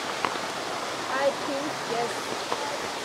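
Mountain spring water in Sri Lanka flows in a soft, steady wash, fairly faint, with a few brief high chirps and small knocks over it.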